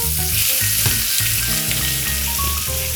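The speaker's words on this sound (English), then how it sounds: "the inside fat is melting, creating those beautiful cracklings" A fatty pork chop sears in a hot pan with its fat melting into cracklings, giving a loud, dense, continuous sizzle and spatter with some stirring close by, under steady background music.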